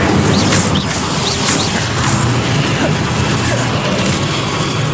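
An Incendio fire spell blasting in Hogwarts Legacy, a loud roaring burst with crackling, whooshing flame and rumbling booms that carries on for several seconds, close and full.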